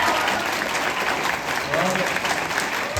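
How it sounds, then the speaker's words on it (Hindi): Audience applause at a Hindi-language gathering, steady dense clapping filling the whole stretch at a fairly loud, even level with no pauses. "एक ताली होता है कि नहीं होता"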